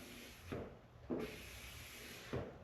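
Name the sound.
squeegee drawn across a custom paint job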